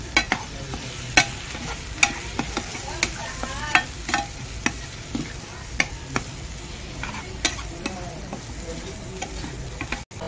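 Ground dried coconut stirred in a frying pan, with a soft steady sizzle and a spoon scraping and tapping against the pan at irregular intervals, close and fairly quiet.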